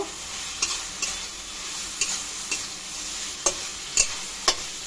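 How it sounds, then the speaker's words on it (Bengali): Green chili and mustard paste is stirred into water lily cooking in a pan, with a continuous sizzle and regular scraping strokes of a spatula roughly every half second, close and alone without voices. "এখন আমি দিচ্ছি এখানে যে কাঁচা লঙ্কা সর্ষেটা বেটে রেখেছিলাম সেটাই দিয়ে দিচ্ছি, দিয়ে একটু নাড়াচাড়া করে নেব"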